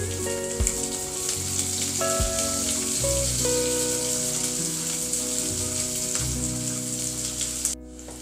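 Onions and curry leaves fry in hot oil in a pan, a loud steady sizzle with crackling spatter that runs unbroken for several seconds and then drops away near the end.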